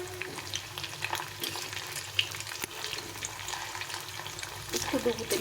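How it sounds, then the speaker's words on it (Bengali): Banana flower peels turned over in hot oil, a continuous close sizzle broken by stirring scrapes and clatter, growing busier toward the end. "এটাকে উল্টে পাল্টে ভেজে নিতে হবে।"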